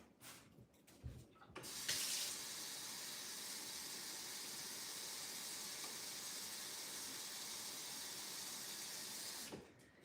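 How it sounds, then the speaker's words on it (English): Water runs from a kitchen tap while rice and pot roast are prepared, a steady close hiss and splash lasting about eight seconds after a few brief knocks, cutting off near the end with no talk. "so we'll get the water going for that"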